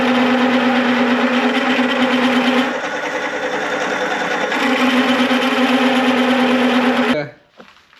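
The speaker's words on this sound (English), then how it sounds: "Just drilling the hole for the pin lock." A drill bores a hole for a pin lock in a steel plate on a homemade loader, a loud steady whine that dips briefly midway, picks up again and then stops abruptly near the end.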